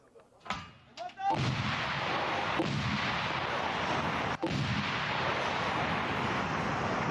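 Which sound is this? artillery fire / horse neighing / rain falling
artillery fire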